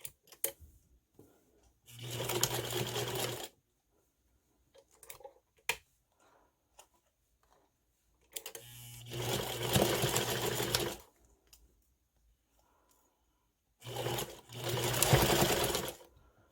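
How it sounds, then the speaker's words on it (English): A sewing machine stitches along the first fold line of a fabric clutch, running in three separate bursts of a couple of seconds each, close and clear, with quiet pauses and small handling clicks between runs. "we are going to sew along this first fold line here."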